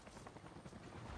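Helicopter in the video game Avatar, a dense steady rotor and engine roar that fills the whole moment at fairly low level, with no clear pauses or separate beats.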